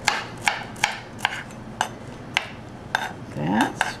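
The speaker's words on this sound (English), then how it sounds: "I'm going to now chop some garlic" A kitchen knife chops two cloves of garlic on a cutting board in a series of about nine sharp, evenly spaced knocks, close and distinct, with faint low room noise between them.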